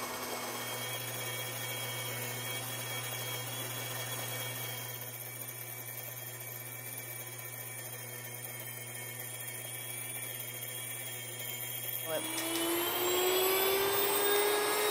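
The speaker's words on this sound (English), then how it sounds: "let it keep going until it's a nice smooth sound and all of the wheat is ground up" A grain mill grinding wheat into fine flour runs steadily with a loud, even mechanical whine and hum, shifting in pitch near the end as the grinding smooths out.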